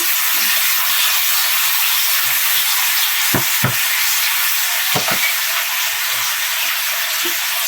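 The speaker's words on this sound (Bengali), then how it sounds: "আমি সবজিগুলো এখনই দিয়ে দিচ্ছি" Vegetables for a Bangladeshi-style Chinese vegetable dish sizzle loudly and steadily in a hot pan, a constant frying hiss broken by a few brief stirring knocks, with no talking.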